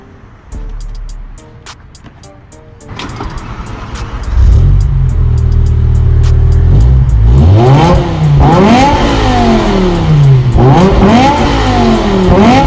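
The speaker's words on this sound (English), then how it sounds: "I'm gonna go ahead and let you hear what the exhaust sounds like" A BMW E63 M6 revs its exhaust at a gas station, starting with a low idle, then a loud sustained climb and several sharp rising and falling revs close by, with no talking.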